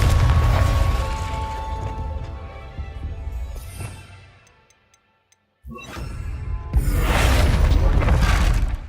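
A Confringo spell blast in the Hogwarts Legacy video game sounds as a loud booming explosion with a crackling burst. It fades, drops briefly to near silence, then returns as a heavy roaring rumble.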